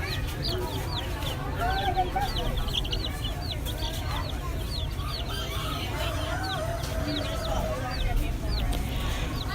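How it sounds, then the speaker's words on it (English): Baby chicks at a farm fair give a steady stream of high, repeated peeps and clucks throughout, mixed with fowl calls over a constant low rumble of fairground background noise. "What are these chicks doing?"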